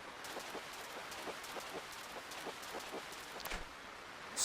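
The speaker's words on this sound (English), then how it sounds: "Rainy days at Animal Crossing are already my happy place, but a rainy, stormy day" Steady rain patters in Animal Crossing: New Leaf, a soft even hiss with faint drop ticks throughout, fairly quiet and with no talking.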